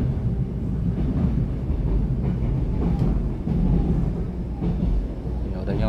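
Taiwan Railway EMU728+EMU727 electric multiple unit train on the North-link line departing Hualien, heard as a steady, loud rumbling roll with faint rail clatter throughout, no talking.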